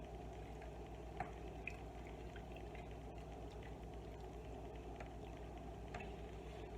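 A pot of caldo with pork steak simmering, a steady low bubbling and hiss with occasional small pops, quiet and continuous with no voices.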